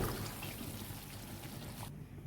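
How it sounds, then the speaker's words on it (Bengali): Water poured into a pot of moong dal cooking with spiced masala, a steady gushing pour with bubbling low rumble lasting about two seconds before cutting off abruptly. "আর দিয়ে দিচ্ছি জল, ডালের বাটিটা ধুয়েই যেটুকু পরিমাণ জল সেটুকু"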